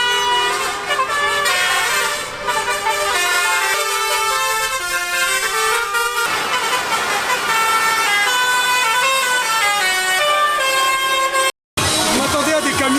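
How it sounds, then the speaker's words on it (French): Car horns honking together during a national holiday celebration in a village on Malta, loud sustained overlapping blasts filling the clip with little pause, a brief cut near the end. "un magnifique concert de klaxon"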